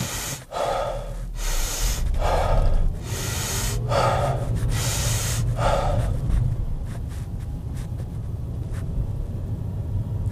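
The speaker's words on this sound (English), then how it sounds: "So a very short mini Wim Hof round." About five deep, rapid Wim Hof–style breaths, forceful inhales and exhales close to the microphone inside a car, follow one another over a low steady engine rumble before fading to quieter breathing.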